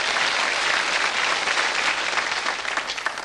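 A television quiz show studio audience claps enthusiastically for contestants from several countries, a dense, steady round of applause that fills the room and begins to thin out near the end.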